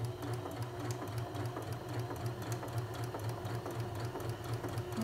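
A sewing machine zigzag-stitching along a fabric edge, running steadily at close range with a fast, even mechanical rhythm and no pauses.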